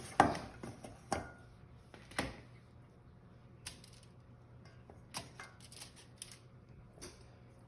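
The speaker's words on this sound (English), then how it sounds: "we're gonna go ahead and transfer them to the pan" Potato wedges are set one by one onto a baking pan in a quiet kitchen, making sparse, sharp taps and clicks at irregular intervals.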